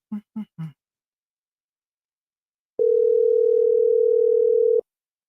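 A steady telephone dial tone hums alone for about two seconds after a call drops, following a few short voiced bursts at the start.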